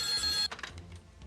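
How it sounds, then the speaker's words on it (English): A telephone rings loudly and close for about half a second before being cut off, leaving a short stretch of faint room noise; part of a comedic sketch about a socialite receiving a call. "That is, until the phone rang."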